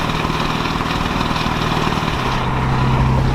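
A Ford 7.3 PowerStroke diesel truck engine with a swapped airbox runs steadily, a loud, close, continuous rough rumble with a slightly choppy tone and no talking.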